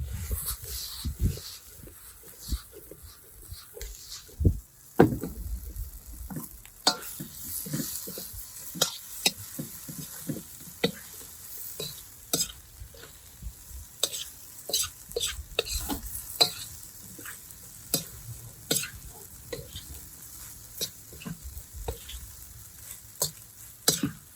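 Cooked jerk pork is stirred and reheated in a pan of fried rice: steady sizzling and frying under repeated scraping and clattering stir strokes, close and moderately loud, with no voices.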